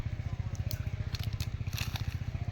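Banana slices being worked by hand with salt and turmeric for banana chips, making a rapid, rhythmic squishing and crackling of the mixing at close range, with no talking.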